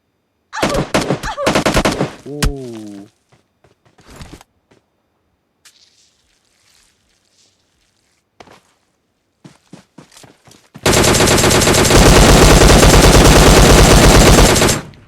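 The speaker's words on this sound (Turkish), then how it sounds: "47 mermi boşalttım" Bursts of automatic gunfire in PUBG Mobile Lite: a loud rapid volley at the start, scattered shots and footsteps through a quiet stretch, then a long sustained stream of fire to the end.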